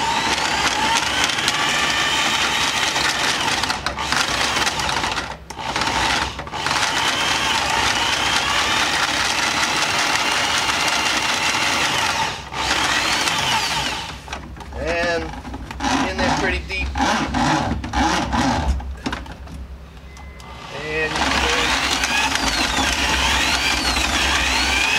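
A handheld electric drain machine spins its cable with a steady loud motor whir and rattling, broken by brief pauses and gritty scraping bursts, with a voice talking over it at times.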